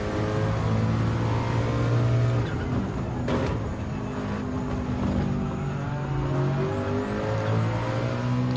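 Racing car engines roar continuously in Gran Turismo 7, including a 1997 McLaren F1 GTR BMW, steady loud drone with a rising rev and shifting pitch throughout.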